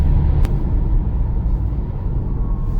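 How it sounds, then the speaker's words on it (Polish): Renault Arkana E-Tech full hybrid with the combustion engine cutting in to assist under harder acceleration, giving a steady low rumble of the car in motion, with one brief sharp click early on and no talk. "Silnik Spalinowy nam pomógł."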